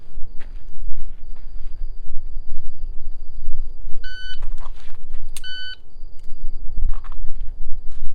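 Shot timer beeps twice at an outdoor shooting range, sharp electronic tones standing out over steady background rumble and wind, with brief handling noises between them.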